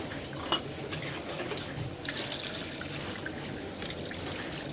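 Anchovies being rinsed in water for a homemade pickle, with steady sloshing and faint clinks of a pot or bowl continuing evenly throughout, close by and without voices.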